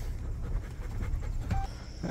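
A farm dog pants heavily and rapidly, close by, just after being zapped by an electric fence wire near a tall cornfield; no one speaks.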